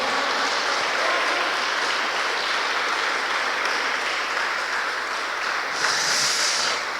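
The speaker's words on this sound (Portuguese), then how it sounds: "Aplauda o Senhor." Church congregation clapping in praise during worship, a sustained, even wash of applause from many hands that stays strong throughout, with no talking over it.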